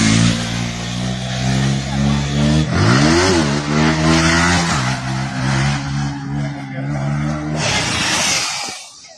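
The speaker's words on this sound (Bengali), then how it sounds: "দেখেন তোমরা কেমন করে বাইক স্টার্ন করে এই জায়গাত আসি" Motorbikes rev hard and ride recklessly along a four-lane road near Dhubri, engines whining and rising in pitch as they pass close by, loud and continuous with a swoop of acceleration midway.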